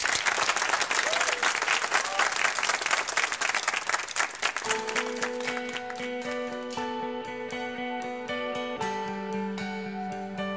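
Audience applause for a singer at the BingoLotto TV show, a loud dense burst of clapping that fades down as instrumental music begins underneath.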